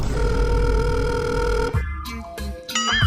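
A telephone rings with a steady electronic trill for a couple of seconds, then cuts off into brief clicks and shuffling.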